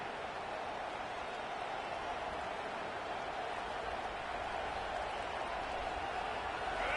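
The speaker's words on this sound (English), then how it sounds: "No fall off from the noise or intensity from this crowd as we start the fourth quarter" A dense, steady stadium crowd roar at a college football game, loud and unbroken throughout with no clear voices standing out.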